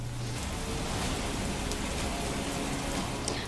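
Heavy rain pours down in a steady, dense roar with no let-up, loud and close, during a downpour flooding the city of Porbandar.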